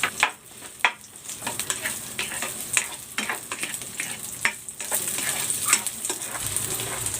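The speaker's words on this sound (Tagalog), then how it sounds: "Prito ko muna itong Chinese sausage." Chinese sausage frying in hot cooking oil, a close, steady sizzle and crackle with scattered pops and spits, rising and falling slightly as it cooks, no voices over it.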